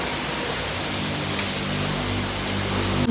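Rain falling steadily outside a house during a monsoon clean-up, a continuous dense hiss with no pauses and no voices.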